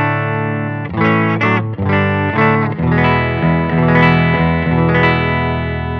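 A heavily overdriven electric guitar through a Catalinbread Formula 51 overdrive pedal and Benson Monarch Reverb amp plays chords and short riffs, thick and sustained with a gritty, saturated tone and a few brief pauses.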